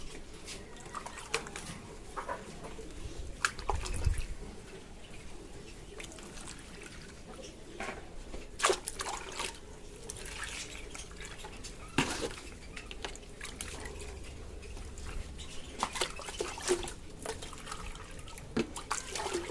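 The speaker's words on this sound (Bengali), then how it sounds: "তো জলগুলো আবার দিয়ে দিই পায়রাগুলোকে" Water trickling and splashing into pigeons' drinking bowls, with a few light clinks of bowls and some faint movement in the background.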